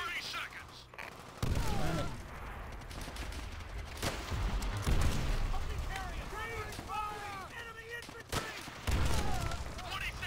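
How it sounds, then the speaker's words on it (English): Bursts of gunfire and booming explosions in a busy Call of Duty: World at War co-op battle, with voices and shouting mixed in under the chaos. "My screen's shaking so much from all the fucking explosions."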